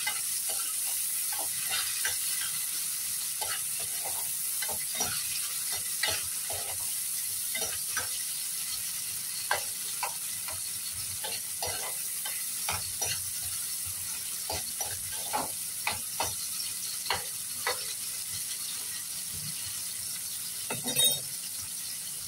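Large squid with a little tomato sizzling steadily in a pan for adobo, with frequent scraping stirs and light clinks of the utensil against the pan, close and continuous.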